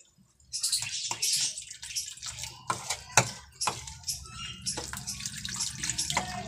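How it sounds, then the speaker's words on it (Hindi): Water splashes and pours into a bowl in irregular bursts, with small drips and clinks close by, and no talking; water being mixed in while making chicken nihari. "ये देखिए पानी डाल के इसको इस तरह घोल लेते हैं।"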